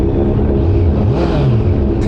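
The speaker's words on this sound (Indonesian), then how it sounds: "Sekarang kita nyalain aja motornya." A Kawasaki Z900 SE 2025 motorcycle engine runs close by with a steady, low rumbling note, holding level for about two seconds with no voices.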